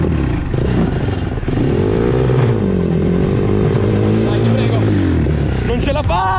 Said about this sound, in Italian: La moto non ce la faceva!